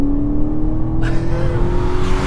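Aston Martin DBX SUV with a nine-speed automatic revs hard, its engine note rising sharply as it kicks down a gear and surges forward, loud and close throughout with a steady droning hum.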